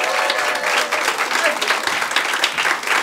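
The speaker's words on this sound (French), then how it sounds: "nous allons applaudir très fort, s'il vous plaît, Christophe!" Audience applause at an improv cabaret show welcoming performer Christophe, steady dense clapping from a live crowd throughout.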